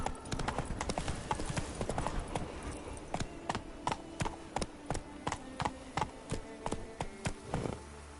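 Horse hooves clip-clopping at a steady gallop in The Witcher 3, a fast regular rhythm of sharp close hoof strikes over a low background bed, slowing into distinct evenly spaced beats toward the end.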